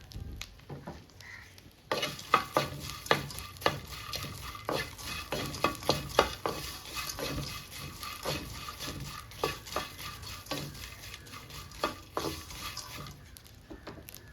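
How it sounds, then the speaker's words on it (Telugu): Dried prawn heads frying in a kadai, with a continuous sizzle under repeated sharp scraping and tapping of a spatula against the pan, louder after the first couple of seconds. "ఈ రొయ్యలు తలకాయలు ఉన్నాయి కదా ఇవి కూడా ఫ్రై చేసుకోవాలి"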